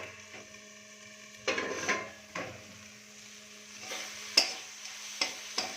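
A fish-bone dish stirred in a pan gives scattered wooden scrapes and knocks over a soft sizzle, a few distinct strokes spaced out, close by and without speech.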